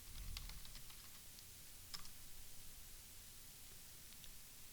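A password typed on a computer keyboard, a few faint scattered key clicks over a low hiss.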